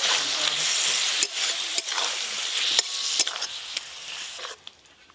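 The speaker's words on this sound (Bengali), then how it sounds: "লবণ আলুটাও মশলার সাথে খুব ভালো করে কষে নেব।" Potatoes and spices sizzle loudly as they are stir-fried in a pan for a fish curry, with a steady frying hiss broken by sharp scrapes of stirring, then easing off near the end, no voices over it.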